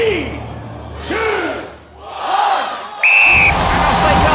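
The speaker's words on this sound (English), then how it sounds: "The crowd goes wild for Spartan" Studio audience at the UK Gladiators arena cheering wildly for Spartan, rising roars in waves that swell into a loud, sustained burst of whoops near the end.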